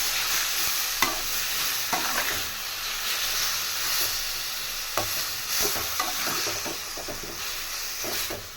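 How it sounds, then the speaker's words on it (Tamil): Grated ash gourd roasts in a pan for halwa: a continuous close sizzle and hiss, punctuated by repeated scraping and clinking strokes of a stirring spoon, with no one speaking. "இப்போ நம்ம ஃபுல்லாக ரோஸ்ட் பண்ண போகிறோம்."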